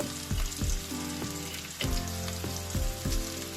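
Chopped onions fry in a pan with a steady, dense sizzle, broken by repeated low scraping knocks of stirring at a loose, uneven rhythm, close and fairly loud with no voices.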